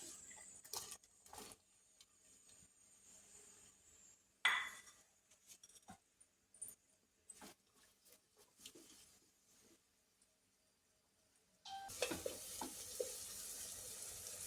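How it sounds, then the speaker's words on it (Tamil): Onions frying in ghee for biryani: after quiet kitchen clatter and scattered clinks, a loud, steady sizzle bursts in for the last few seconds. "பிரியாணிக்கு வெங்காயத்தை வதக்கறக்கு போட்டு விட்டுடலாம்."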